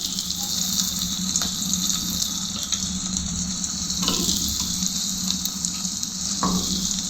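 Water poured into a pan of frying dried fish, onion, garlic paste and turmeric gushes and bubbles in a steady hissing rush, close and continuous, with a few clinks of a utensil.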